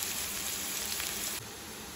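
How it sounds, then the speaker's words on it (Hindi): Onion and crushed garlic fry in hot oil for a tadka to go into masoor dal, a steady, fine, hissing sizzle, faint and close, that drops slightly near the end, without speech. "प्याज काफ़ी ढंग तक हम इसको फ्राई करेंगे"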